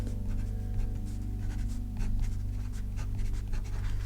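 Soft scratchy strokes of a fountain pen with a smooth stub nib moving across paper, close and quiet over a steady low hum, no talking.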